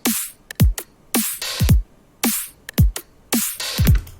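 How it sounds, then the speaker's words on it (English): Punchy electronic drums with heavy effects: deep pitched-down kicks, bright noisy bursts and sweeping tails repeating in a steady groove. "the drums with the effects, it sounds a bit like this."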